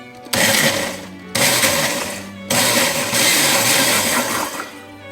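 A blender whirs loudly in three short pulses, each burst cutting off abruptly before the next, the last running a little longer.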